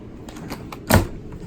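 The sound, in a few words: utility drawer in Airstream RV kitchen opening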